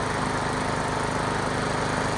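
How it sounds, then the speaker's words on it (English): Steady, droning engine of a lawn mower mounted on a homemade edge-cutting rig, run alongside a New Holland Boomer 45 tractor to cut brush around a pond edge; continuous and fairly close, with no talk. "Cutting brush around the pond."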